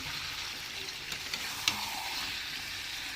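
Chicken sizzling and frying in a pan as washed pointed gourd and potatoes are added to sauté, a steady close hiss with a couple of small clacks from stirring.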